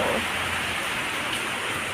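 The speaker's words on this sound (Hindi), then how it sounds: "तो देखो इतना बारिश आ रहा है" Heavy monsoon rain falls in a thick, unbroken hiss close by, loud and even throughout with a faint pattering texture and no speech.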